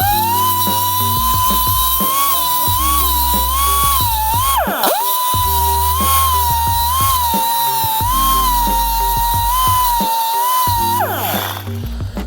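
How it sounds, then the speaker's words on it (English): An electric grinder works against a steel chain rivet head, a loud steady high-pitched whine with brief dips in pitch as the tool is pressed and eased, close and continuous for about twelve seconds. "So we've ground the head off, and you could do this on the bench or with a grinder."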